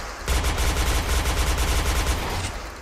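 Sustained rapid automatic gunfire in a competitive PUBG-style shooter, sprayed blindly into smoke, rattles continuously for over two seconds at close range, loud and unbroken before cutting off.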